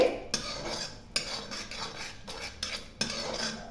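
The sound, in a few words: mixing baby corn with salt and masala in a bowl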